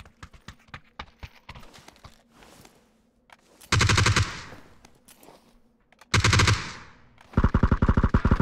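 Bursts of automatic gunfire from the battle royale game PUBG, several loud sustained volleys separated by pauses, following quieter clicks and footstep-like taps.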